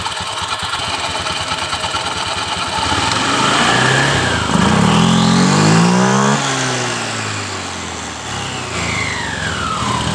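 A motorcycle engine idles steadily, then revs up and back down as the throttle is opened, its pitch rising and falling in one clear sweep, close and loud throughout.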